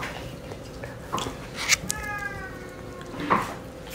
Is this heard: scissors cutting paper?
no